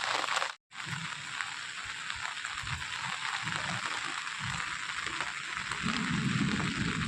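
Heavy rain pours steadily over farm fields in Banaskantha district, a dense continuous hiss broken by one brief cut, with low rumbling underneath.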